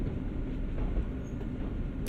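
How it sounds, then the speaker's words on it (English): In Train Sim World, a locomotive on the NEC New York route gives a steady low rumble as it brakes gently to a stop, with a faint high hiss over the continuous drone. "To bring the locomotive to a gentle stop, move the automatic brake into the minimum application position"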